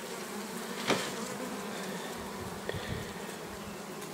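Honey bees buzz steadily around spring beehives as colonies grow, a continuous close hum with a couple of louder passes as individual bees fly near.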